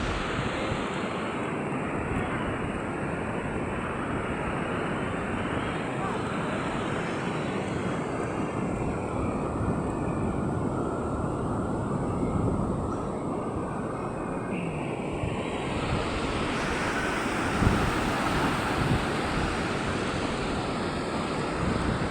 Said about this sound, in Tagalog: Sobrang laki ng mga alon